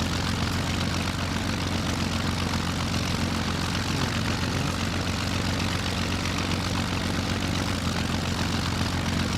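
A Messerschmitt Bf-109 propeller engine in Flight Simulator X hums in a steady, unbroken drone with the throttle pulled back, moderately loud and alone with no voices.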